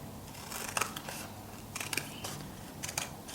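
Scissors cutting paper along a line for a junk journal, several close, crisp snips spaced about a second apart over a faint steady background.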